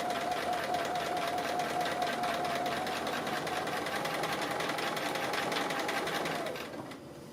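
A sewing machine runs steadily, stitching a tree appliqué with branches and leaves in a quilting project. The whirring is close and continuous for most of the clip and eases off near the end, with no talk.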